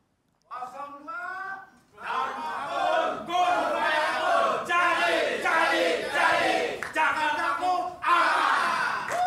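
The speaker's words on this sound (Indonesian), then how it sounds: "Saya ingin mendengar yel-yelnya dulu untuk, dalam tanda kutip ya, pasukan pendukung calon wakil gubernur nomor urut 2" A crowd of supporters of a Jakarta vice-governor candidate chants and yells in unison at a campaign debate, loud and rhythmic, in repeated rising bursts that follow a shouted lead.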